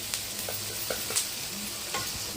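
Masala frying with ginger paste in a pan for home-made mandi biryani, a steady close sizzle with occasional stirring scrapes and no talk.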